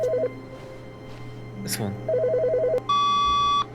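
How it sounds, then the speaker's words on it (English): A ringing desk phone in the video game The Stanley Parable: Ultra Deluxe sounds repeated bursts of electronic ring tones, separated by short gaps, with people talking around it. "Wait, phone is ringing?"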